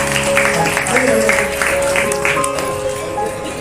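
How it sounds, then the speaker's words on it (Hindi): Audience at a community gathering for a Mann Ki Baat broadcast claps in a moderate, uneven patter against a background hum, with a voice partly heard among the applause. "और एक बार तालियां बजती रहनी चाहिए।"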